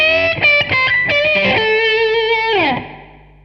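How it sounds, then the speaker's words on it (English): An electric guitar played through an original Line 6 Pod with a basic reverb: a few quick picked notes, then a sustained chord that rings out, slides down and decays into a soft reverb tail. "this is a basic reverb that you can just bring in and out on any settings"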